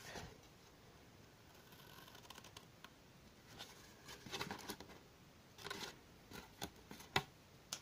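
Cardboard being cut into a rectangle for a dome-shaped gift box, a string of soft snipping and crinkling strokes that grows sharper and more frequent toward the end, close by and fairly quiet.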